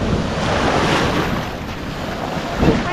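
Strong sea waves wash onto the beach at Burias Island in a continuous broad roar, with wind buffeting the microphone and a slightly louder surge near the end.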